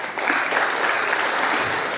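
Applause from a business audience at an Indonesian ministerial meeting with developers, a steady dense wash of many hands clapping throughout, fairly loud and continuous with no talk over it.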